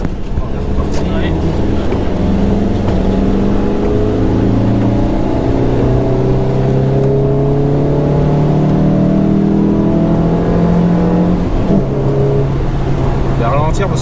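A Suzuki Swift engine drones loudly from inside the car while driving, its pitch climbing through gears in rising sweeps with shift dips, and people talk over it.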